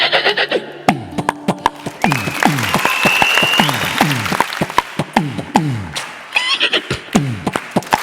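A performer on a stage show vocally imitates galloping horse hoofbeats as heard in old Tamil film songs, producing a rhythmic clip-clop pattern with a whinny-like cry, while an audience applauds.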